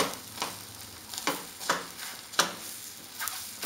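A large flipped pancake-like dish sizzles in a pan, a close steady frying hiss punctuated by several sharp crackling bursts and light spatula scrapes.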